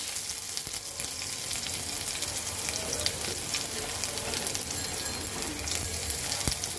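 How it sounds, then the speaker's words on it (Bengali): Chopped onions sizzle steadily in hot oil with whole cumin seeds for a soybean curry, a dense, even frying hiss with scattered crackles and stirring clicks close to the pan. "এখন আমি এর মধ্যে দিয়ে দেব কুচি করা পেঁয়াজ।"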